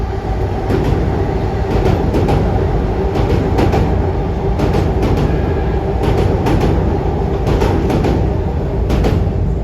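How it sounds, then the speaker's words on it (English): A Metro-North New Haven Express train rolls into a station on track 3, a loud, steady rumble of rail cars with rhythmic clicks from the wheels over joints throughout, close and without voices. "coming in on track 3 at 425 is a train I'm well acquainted with recently. 3542, New Haven Express, Stamford, Bridgeport, and New Haven."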